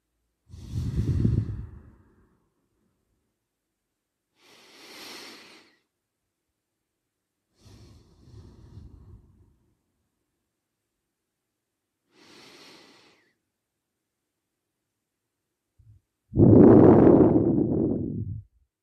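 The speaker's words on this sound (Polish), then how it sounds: "Nie zapominajmy o powolnym, wyciszającym oddechu." Slow, calming breaths during a home functional workout: several long, soft exhales and inhales spaced a few seconds apart, ending with a louder, drawn-out sigh-like exhale, close to the microphone and otherwise quiet.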